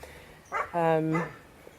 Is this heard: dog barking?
yes